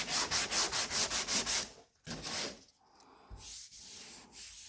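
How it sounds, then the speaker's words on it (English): Round durablock sanding the body panel of a '55 Pontiac hot rod: eight quick, rhythmic back-and-forth rasping strokes, then a pause and a few slower, softer rubbing passes, close up and with no talking. "Now we'll sand from here down and take this little edge off later."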